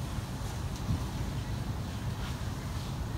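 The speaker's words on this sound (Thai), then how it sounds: "ฟังเสียง ลมพัดโอ้ยหนาว" Cold wind blows outdoors in the dark before dawn on a chilly 17 °C morning. It comes through as a steady, moderate rushing with low buffeting rumble on the microphone.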